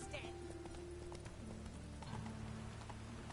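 The horse Roach's hooves clip-clop in The Witcher 3 in a quiet, steady trot under faint rain and a low ambient hum, with speech present.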